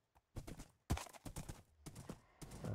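Horse hooves in Minecraft, a few short bursts of clopping steps close by, sparse and uneven, with no talking.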